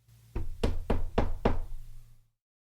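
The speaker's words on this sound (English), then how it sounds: "He knocked on her door." Five sharp knocks on a door come in quick, even succession, close and distinct, followed by silence, with a low hum underneath and no voices.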